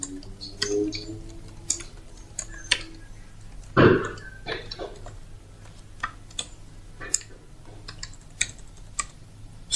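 Steady clicking of keys on a computer keyboard, quick irregular taps close by with one louder thump partway through.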